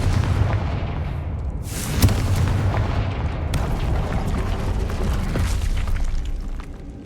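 The Confringo spell explodes in the Hogwarts Legacy video game, a loud booming blast with a sharp crack about two seconds in, followed by a sustained rumbling roar of fire and debris that keeps the mix dense to the end.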